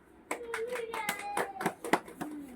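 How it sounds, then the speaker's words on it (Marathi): A young child claps hands at an event where a hearing aid is being presented, giving about six sharp, irregular claps with a faint voice-like tone drifting between them. "टाळ्या वाजव."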